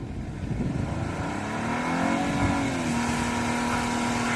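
A car engine drones steadily and close by, its pitch rising and then holding level as the vehicle moves forward and backward, with no talk over it.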